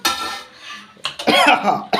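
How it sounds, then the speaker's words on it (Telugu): A few harsh, loud coughs close by from pungent fumes while cooking goat head curry, coming in short bursts with brief pauses between them. "దగ్గు వస్తుంది ఘాటు వస్తుంది"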